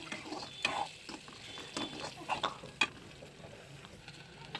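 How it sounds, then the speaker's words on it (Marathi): Onions sautéing in a pan for a green chickpea dish, a faint sizzle with irregular scraping and stirring strokes, a few light clinks, no voices. "त्या कांद्यांना छान असं परतून घ्यायचं आहे बघू शकता या प्रकारे छान असं त्या कांद्यांना परतून घ्या"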